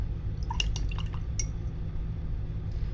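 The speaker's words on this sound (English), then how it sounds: "I'm going to rinse my brush." A paintbrush rinsed in a water container while painting a toucan: a few light clinks and splashy taps against glass in the first moments, over a steady low hum of background noise.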